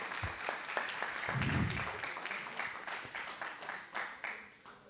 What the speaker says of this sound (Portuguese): Dá um aplauso para eles aí.